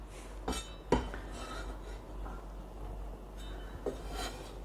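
Carrots and other vegetables dropped into a simmering pot, a few faint clinks and knocks of pieces and utensils against the pot spread over a few seconds, in a quiet kitchen.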